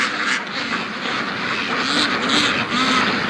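A flock of free-range ducks quacking nearby, a dense, continuous chorus of overlapping nasal calls with no pauses.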